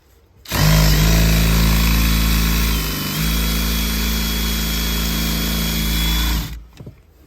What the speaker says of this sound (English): So hopefully we can drill this out and